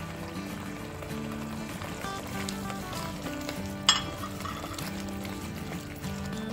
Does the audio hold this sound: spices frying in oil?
yes